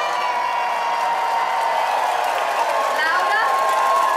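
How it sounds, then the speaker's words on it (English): A cruise ship dining room audience cheers and whoops for the waiters, assistant waiters and sommeliers, a dense steady roar of many voices with a few shrill whistles near the end. "please let me hear you cheer"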